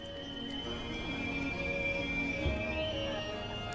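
Horses neigh and hooves clip-clop in the Civilization 7 strategy game, faint and soft beneath a steady sustained musical drone, with no talking.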